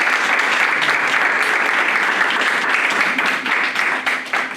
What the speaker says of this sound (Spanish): les pido un aplauso para el doctor